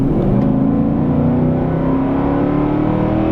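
A lifted Nissan Titan Platinum Reserve pickup truck accelerates hard, its engine a loud, continuous rising roar heard up close throughout, with no talking.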